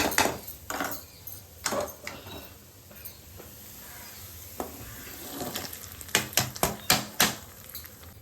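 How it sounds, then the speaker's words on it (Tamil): A tempering of garlic, dried red chili and curry leaves, fried golden brown in oil, is poured into cooked greens with lentils and hisses in a steady, crackling sizzle. Sharp clinks of a pan and utensil follow near the end. "இப்போ கீரையில் ஊற்றிக்கலாம் தாளிப்பை."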